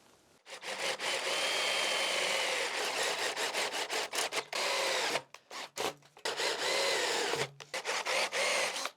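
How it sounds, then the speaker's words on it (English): A power drill countersinks holes for hardware on a 3D printer workbench frame, with several sustained whirring bursts broken by short stops and quick trigger blips. "I will just countersink these in"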